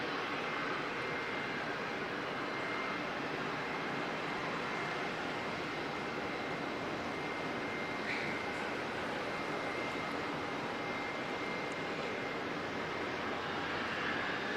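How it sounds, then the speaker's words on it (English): A Saab aircraft at Auckland Airport gives off a continuous, even engine roar, broadband and steady at moderate distance, with no clear rise or fall across the stretch. "Jenny's saying that the Saab is noisy"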